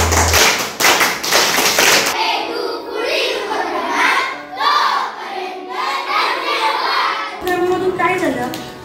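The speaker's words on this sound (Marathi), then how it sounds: "स्वतःसाठी अगोदर आपण टाळ्या वाजवून आपलंच कौतुक करूया." Fifth-standard students in a classroom during a vocabulary game clap together in a short burst of quick rhythmic claps at the start, then someone speaks clearly over the quiet room.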